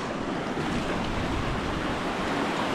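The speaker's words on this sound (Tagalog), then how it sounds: "Dagat." Sea waves washing in as a steady, loud broadband roar, with wind buffeting the microphone and no distinct break between surges.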